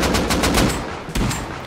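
AK rifle fire in the Rust video game, a quick burst of about half a dozen sharp, loud shots in rapid rhythm, then a pause and another shot or two.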